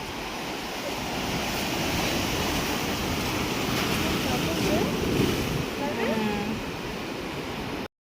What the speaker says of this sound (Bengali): এখন প্রচুর ঢেউ জোয়ারের সময় এখন